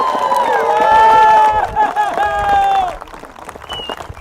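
Wedding guests in California cheering and applauding a newly announced married couple, with high whoops and shouting voices riding over loud clapping that fades toward the end.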